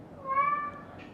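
A house cat meows once indoors, a short tonal call lasting about half a second, fairly soft and with no one talking.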